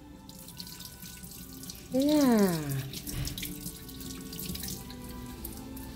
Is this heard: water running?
yes